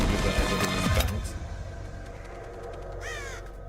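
A crow caws in the video game Metal Gear Solid, with a clear call near the end rising above a dense, steady bed of game ambience and music.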